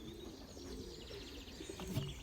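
Racing pigeons near a Belgian loft give soft, low coos amid faint outdoor ambience, a brief murmuring run of calls with some light chirps.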